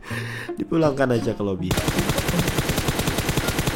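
Rapid automatic gunfire in PUBG Mobile during a solo-versus-squad match: a brief stretch of talk, then a loud, steady burst of closely spaced shots running to the end.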